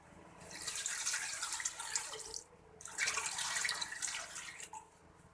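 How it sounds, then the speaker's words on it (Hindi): Water is poured in two separate rushing bursts into a pot holding a marinated mutton leg (raan) roast, each pour lasting a couple of seconds with a short gap between, close and fairly loud. "2 गिलास पानी डाल दिया है मैंने।"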